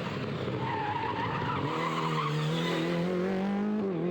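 Craig Breen's Peugeot 208 rally car skids hard on a rally stage in the Valais, tyres scrabbling under a loud, steady engine drone that rises in pitch toward the end; no talk.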